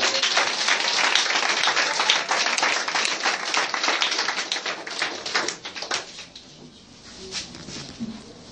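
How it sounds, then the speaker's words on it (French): Church congregation applauding and cheering for Jesus Christ during a charismatic prophetic service, dense fast clapping loud and sustained for about six seconds, then thinning to scattered claps. "Est-ce qu'on peut acclamer Jésus-Christ?"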